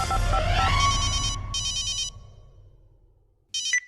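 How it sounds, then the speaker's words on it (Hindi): An electronic telephone ringtone sounds in repeated bursts during a phone-a-friend call on a televised quiz show, following a swelling musical sting. There is a pause before a final short ring. "कंप्यूटर महाशय, राजा बाबू के पिताजी को फोन लगाया जाए गाजीपुर।"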